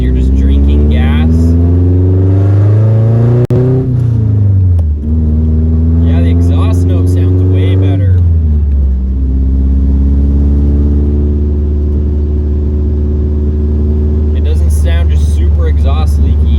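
A car engine with a leaky exhaust runs steadily at idle with a rough, uneven low drone, pitch dipping and rising slightly; brief rattly hissing bursts come and go.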